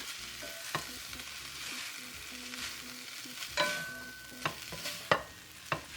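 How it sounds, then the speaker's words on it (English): Chicken jerky being tossed and mixed with plenty of Thai pepper, soft rubbing and stirring with a few sharper clicks and knocks of utensil against bowl, moderately quiet and close, no talking. "then you make sure you mix them well."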